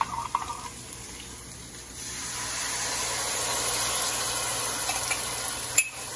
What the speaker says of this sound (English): I'm going to add my curry slurry that I mentioned in the recipe. So that's that curry mixed with the water.